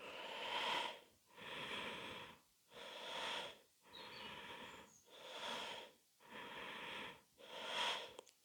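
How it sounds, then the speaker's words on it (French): Slow abdominal breathing during a calming yoga exercise: seven full inhale-exhale cycles, each long airy breath clearly audible and close, separated by brief quiet pauses, with no talking. "À l'inspire, on va venir gonfler son ventre et à l'expire, rentrer le ventre."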